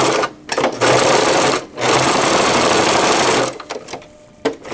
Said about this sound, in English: I just use a straight stitch and I'm just going to hold my ends and go back and forth a few times.